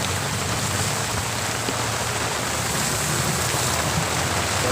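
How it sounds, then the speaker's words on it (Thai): Steady rain pours down in a loud, continuous hiss with no breaks and no voices, heard outdoors at a natural fishing spot. "ฝนก็มาตกอีกครับผม"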